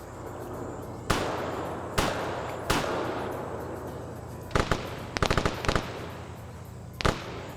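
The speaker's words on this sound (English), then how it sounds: "They're firing at a body." Gunfire in the Arma military sim during a PvP match: a few sharp, separate shots spaced a second or so apart, then a quick cluster of rapid cracks and one last pair, fairly close over low background noise.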